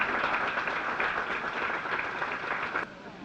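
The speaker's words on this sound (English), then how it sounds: "can you give a big round of applause to the Patels, Umang and Paragi." An audience at a National Indo-American Museum event applauds the Patels, a dense steady wash of clapping that fills the room and drops off sharply near the end.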